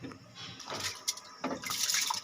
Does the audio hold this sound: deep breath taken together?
no